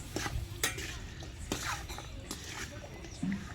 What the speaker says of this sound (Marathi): हे खोबरं बी चांगलं भाजतंय